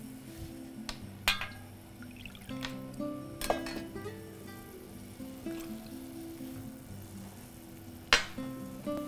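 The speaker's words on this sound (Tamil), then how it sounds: "இப்போ அடுத்து வந்து இதில் இந்த வேக வச்ச பருப்பு தண்ணி சேர்த்துக்கோங்க." Cooked lentil water is poured into a pot of rasam in a home kitchen, a soft liquid stream with sharp utensil clinks and scrapes over a steady low hum.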